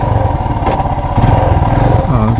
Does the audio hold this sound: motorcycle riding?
yes